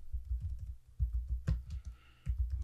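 Someone types into the Windows 10 search box on a computer keyboard: close, rapid clusters of soft key taps in uneven bursts, with one sharper click partway through.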